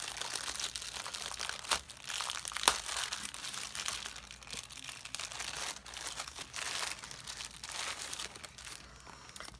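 Plastic packaging crinkles and tears as a packaged Kate Spade pencil pouch with gold dots is opened, with steady close crackling and a few sharper rips.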